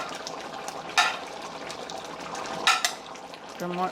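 Curry goat with gungo peas simmers and sizzles in a pot as onion and scallion seasoning is stirred in. The bubbling is steady and close, broken by two brief, louder scraping stirs.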